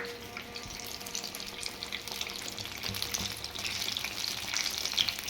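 Tomato bhajiya fritters, a Surat-style snack, frying in a pan of hot oil: a steady broad sizzle and crackle with small pops, holding even and fairly quiet throughout with no voices.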